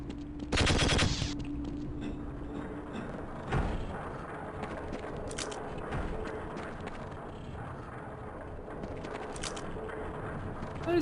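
Gunfire in a Half-Life-style video game map, with a loud burst of rapid shots early on, then a few more sharp shots over steady background game noise.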